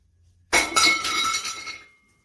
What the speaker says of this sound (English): Sounds like we have a loose screw inside.